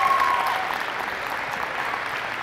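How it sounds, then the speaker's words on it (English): Spectators at a high school winter college athletic signing ceremony give the athletes and their parents a round of applause, a thick, continuous crowd clapping that stays loud and even from start to finish. "let's give all of these eight athletes and their parents a big round of applause"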